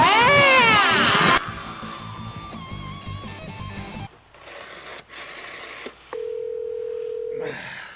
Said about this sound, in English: Are you ready to check that voicemail?